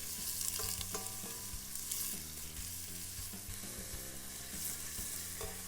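Onions sizzle and fry in a pan as the base for a fish stock, a steady soft crackle with occasional stirring clinks, fairly quiet and without talk.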